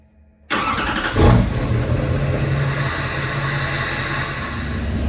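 A car engine cranks and catches after a fluid and oil change on a cold winter day, starting abruptly and settling into a loud, steady run close by.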